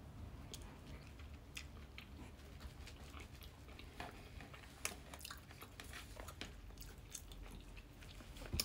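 Close-up chewing of smoked salmon with mascarpone and dill, soft wet bites and mastication in an irregular steady rhythm, intimate and quiet with no talking.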